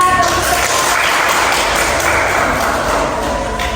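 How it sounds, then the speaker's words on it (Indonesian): Classroom students clap for a classmate, a loud, dense patter that holds steady throughout, with faint voices mixed in. "Beri tepuk tangan untuk Felicia."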